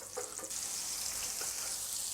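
Floured rabbit pieces sizzle steadily in an uneven frying pan, a close, continuous hiss with a few soft clicks and spatters near the start.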